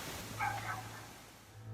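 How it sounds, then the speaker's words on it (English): Dogs bark from a neighbouring house at night, a brief muffled yelp-like burst heard at a distance over a low steady hum, then fading into quiet. "dogs barking ominously from the next house"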